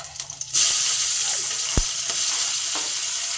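Mustard seeds, ginger and garlic hit hot oil in a pan, bursting into a loud, steady close sizzle that holds without a break, with a light clack or two of a utensil.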